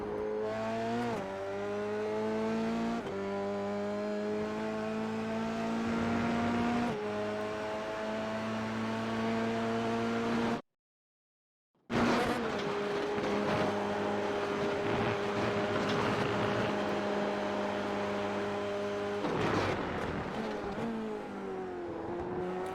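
Race car engine screaming at high revs on track and hitting the rev limiter, loud and close with strong harmonic whine that rises and drops through gear changes, cut by a brief silent gap midway.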